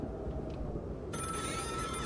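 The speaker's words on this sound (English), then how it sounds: "it's the phone ringing" A telephone ringing in the horror video game The Cabin Factory, a steady electronic ring that starts about halfway through and continues evenly, moderately loud with no talk over it.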